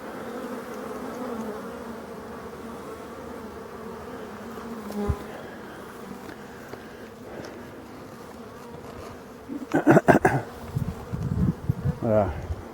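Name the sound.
honeybees buzzing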